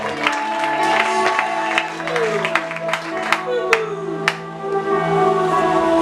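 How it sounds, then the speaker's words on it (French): A church congregation applauds loudly, a dense patter of claps mixed with crowd noise and ringing, sustained musical tones that run throughout. "Acclame vivement."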